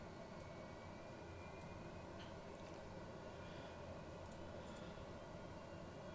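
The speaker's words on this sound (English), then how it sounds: "And our engine is started up." TBM 930 turboprop engine idling after start-up in Microsoft Flight Simulator 2020, a faint, steady, even drone with no change across the whole stretch.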